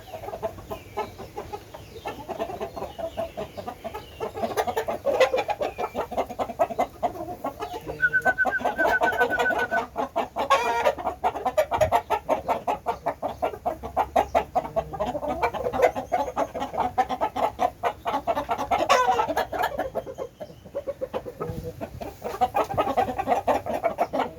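Young roosters cluck and chatter continuously at close range, with a few short higher calls rising above the steady flock noise.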